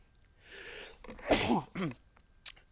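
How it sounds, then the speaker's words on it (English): A single sharp sneeze after a short inhaling buildup, close and fairly loud, followed by a faint breathy sound. "I've got a sneeze coming"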